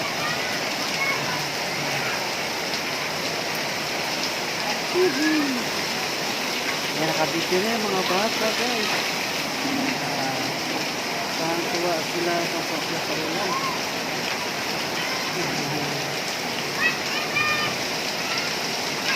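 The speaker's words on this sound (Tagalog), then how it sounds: "Malakas sa ulan" Heavy rain pours in a continuous dense hiss throughout, with people talking and laughing over the downpour.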